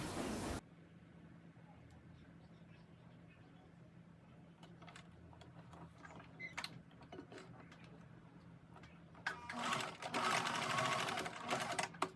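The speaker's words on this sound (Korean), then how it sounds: "이렇게 접어서 바느질을 사선으로 합니다." A sewing machine sews a diagonal seam on the folded side edge of lace, its fast ticking stitches quiet at first, then louder in bursts toward the end.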